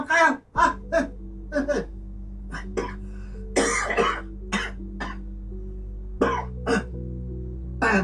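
A person coughs repeatedly in short, harsh bursts spread across several seconds, loud and close, with a steady tonal hum underneath.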